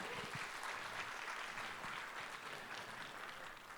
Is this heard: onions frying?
no